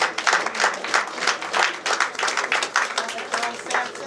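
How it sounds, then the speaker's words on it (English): Applause at an award forum honoring a health-system figure in Ghana, with rapid pulsing claps continuing throughout, fairly close and moderately loud, though the broad noise could also hold crowd chatter. "Let's give him a big round of applause."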